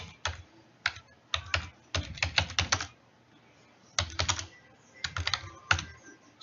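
Typing on a computer keyboard, with bursts of quick keystrokes broken by short pauses, recorded close and fairly quiet with no voices.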